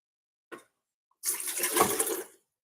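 Water poured into a cup for making coffee: a brief splash, then about a second of steady, close pouring that stops abruptly, with no talk over it.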